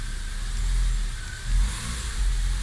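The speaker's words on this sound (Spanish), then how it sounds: "Primera, con el freno pisado, acelero." A Chevy Agile's engine revs hard as the car pulls away in first gear with the brake held, a loud, close, rising roar with a couple of surges and no talking.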